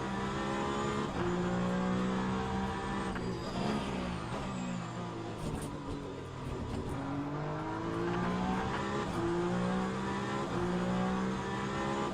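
Peugeot hypercar in a racing video game, its engine droning steadily with shifting pitch as it races, loud and continuous throughout with brief tire noise, no voices.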